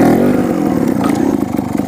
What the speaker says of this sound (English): we're just doing trial wheelies. This is mostly just going to be on the throttle